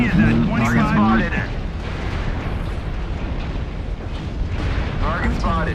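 Incoming missiles in Mechwarrior Online strike and explode in a rumbling barrage of deep booms, with voices talking over the start and end.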